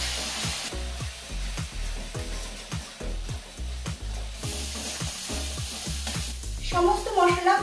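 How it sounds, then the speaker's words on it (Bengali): Spices with turmeric, salt and a splash of water stir-fried in hot oil for a vegetarian parwal dish, a steady sizzle broken by rhythmic scraping strokes of a spatula in the pan, close and fairly loud. "এবারে এই সমস্ত মশলা ভালোভাবে তেলে কষিয়ে নেব।"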